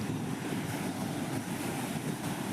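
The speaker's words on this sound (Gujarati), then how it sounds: "પવનના લીધે દરિયાના મોજા પણ મોટા મોટા આવે છે" Large wind-driven sea waves at Porbandar make a continuous, heavy roar of surf, with wind buffeting the microphone and no talking.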